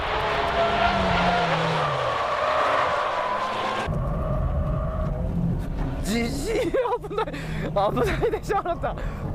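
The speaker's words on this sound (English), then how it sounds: "The Evo 7, the lightweight, flying into the corner. How fast can the Porsche Turbo take it from here?" A Porsche 996 Turbo and a lightweight Evo 7 race into a corner side by side, with loud engine roar, shifting revs and squealing tires, while a commentator talks excitedly over the action.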